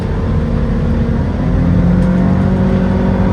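A Jeanneau NC 795 boat engine opens up to full throttle, a steady loud low drone and whir that holds strong and climbs slightly in pitch throughout, with no talk.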